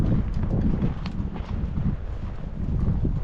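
Horse hooves clip-clopping on a horseback trip to a remote camping spot, a steady irregular patter of hoofbeats close by with wind rumbling over the microphone and no talk.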